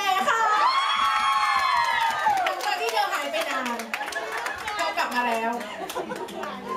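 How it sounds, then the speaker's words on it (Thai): An audience claps and cheers to welcome a child at a games event, with shouts and excited children's voices rising over the applause, which fades into lively chatter and talk toward the end. "ทุกท่านคะโปรดปรบมือต้อนรับลินแอ"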